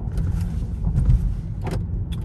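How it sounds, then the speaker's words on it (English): Car driving along a road with a stiff, sporty suspension, giving a steady low engine and road rumble with a few faint clicks and rattles from the cabin, heard from inside and with no talking. "All right, so we'll go for a little drive here."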